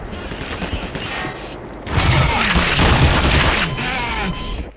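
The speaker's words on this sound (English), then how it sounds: "Who's shooting at me?" Rapid gunfire from enemies shooting at the player in the Half-Life remake Black Mesa, loud sustained bursts of automatic fire with booms and echoing battle noise, heaviest in the middle stretch.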